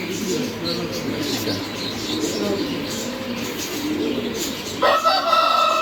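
Giribaz pigeons in a bird shop coo and murmur in a dense, continuous chorus, with other birds calling and a person's voice occasionally heard among them.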